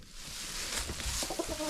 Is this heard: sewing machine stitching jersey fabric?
no